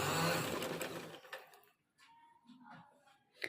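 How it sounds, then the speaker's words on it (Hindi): A sewing machine stitches a border strip onto fabric in a short burst of rapid mechanical whirring, then stops, leaving a few faint clicks and handling sounds. "यहाँ से अब हमने इसकी सिलाई लगानी स्टार्ट कर देनी है"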